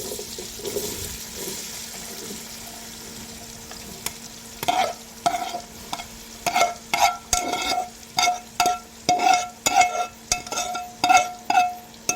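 Onions sizzle in a hot pan while being stirred for a besan bitter gourd bhujia, with a soft frying hiss at first, then repeated sharp scraping and clattering strokes of the spoon growing louder and more regular.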